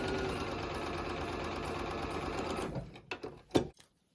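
Sewing machine stitching steadily along a line on a scrappy flying geese quilt block, a continuous close whirring hum that slows and stops, followed by a few light clicks.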